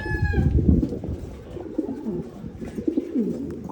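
Pigeons coo close by in soft, low, repeated throaty bursts, several overlapping calls across a few seconds, with a brief higher chirp at the start.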